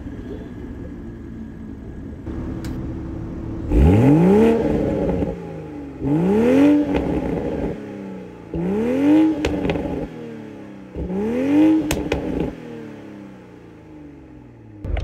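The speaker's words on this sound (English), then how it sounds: "what a cool engine, and it sounds absolutely fantastic, but of course it is still a BMW-derived engine" A 2023 Toyota GR Supra with a 6-speed manual and a BMW-derived engine is revved four times, each rev a rising roar dropping back to a steady idle between.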